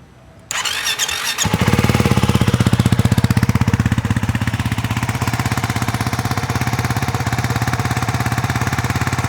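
A motorcycle engine with stock exhaust starts up and settles into a loud, fast, steady idle, its pulsing beat close and continuous.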